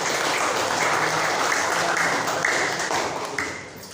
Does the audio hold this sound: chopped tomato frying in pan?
no